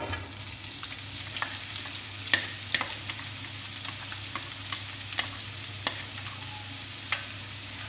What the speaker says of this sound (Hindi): हमारा पिघल चुका है, अब मैं इसके अंदर डालूंगी प्याज।